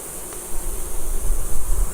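Honeybees buzzing around an open pink hive during a colony inspection, a steady close drone of many wings with a low rumble underneath, without talking.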